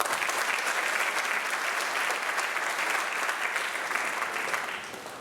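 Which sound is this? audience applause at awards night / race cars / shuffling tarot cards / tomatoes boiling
audience applause at awards night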